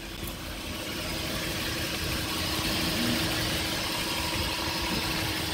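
A 2009 Suzuki Jimny, running rich and low on power, idles steadily with a constant mid-low engine drone and light vibration, heard up close near the exhaust with no talk.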